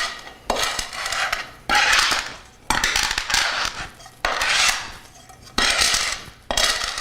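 Ingredients crushed with the edge of a pan for a pork roast: loud, gritty scraping and grinding strokes come in about six rhythmic bursts, close by with no talking.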